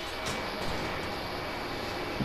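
A PlayStation console's cooling fan whirs hard after running a big game, a loud, steady broadband rush with no talking over it.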